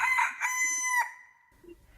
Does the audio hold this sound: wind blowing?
no